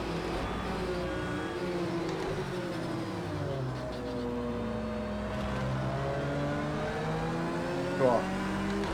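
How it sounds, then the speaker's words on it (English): A Falcon Tires Porsche race car in Project Cars 2 screams past among other cars, engine pitch sweeping and shifting through gears, loud and steady with a brief bump near the end. "someone coming straight through in the Falcon Tires Porsche"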